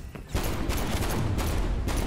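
A scoped video game gun with heavy recoil fires a rapid, loud burst of shots, a near, dense crackle with a few sharper cracks standing out over continuous noise.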